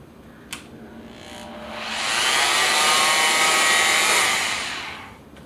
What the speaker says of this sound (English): So at the lowest setting, that's what it sounds like.